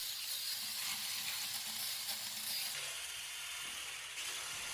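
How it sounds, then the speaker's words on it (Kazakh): An electric mixer beats egg with sugar and salt for cinnamon-roll dough, a close, steady whirring hum with a bright, gritty edge that holds evenly throughout, with no talking. "Тұз қосып, миксермен шайқаймыз."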